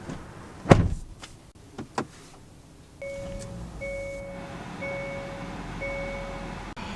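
Getting into a 2023 Hyundai Kona SEL AWD: a door thuds shut, followed by a few soft cabin clicks and a repeating electronic chime that beeps steadily inside the car.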